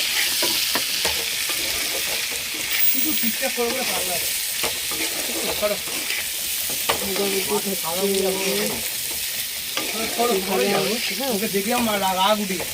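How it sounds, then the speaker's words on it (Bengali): Potatoes sizzle in a pan with a low, steady hiss and the scrape of occasional stirring. A person hums or sings over the frying through much of it. "আলুটা ভাজা হচ্ছে"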